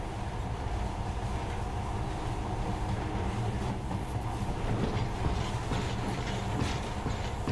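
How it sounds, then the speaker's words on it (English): A monorail train running in the video game Metro Last Light, a continuous loud rumbling rail drone with faint rhythmic clatter throughout, no voices. "now this monorail seems really present"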